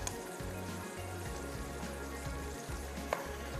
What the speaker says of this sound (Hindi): फ्लेम को थोड़ा सा हाई करके इस गोश्त को भून लेते हैं